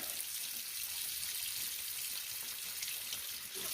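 Water runs steadily from a tap to rinse residue out of a SodaStream bottle, a continuous broadband splash with no talk over it.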